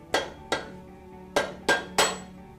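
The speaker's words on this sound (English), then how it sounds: "You may need to tap the gears with the rubber mallet to get them loose." A rubber mallet taps on engine timing gears to loosen them, five sharp ringing metallic strikes at uneven intervals, close and loud with a brief decay.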